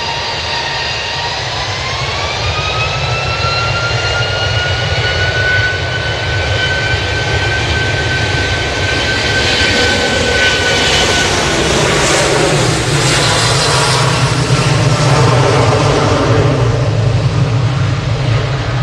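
Jet airliner with Rolls-Royce RB engines taking off at Manchester Airport, a loud sustained roar with a rising whine that holds steady and close throughout, no talking.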